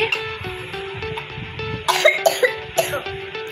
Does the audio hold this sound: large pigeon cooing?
no